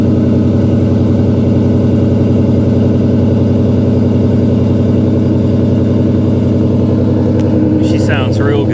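A 2009 Dodge Challenger SRT8 V8 idles close and loud with a steady, deep rumble throughout, and a voice comes in briefly near the end.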